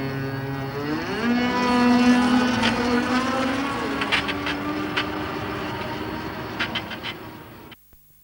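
The horn of an experimental electric car from an early automotive showcase sounds a long, nasal, wavering tone that swells and holds for several seconds. Scattered mechanical clicks follow before it cuts off abruptly.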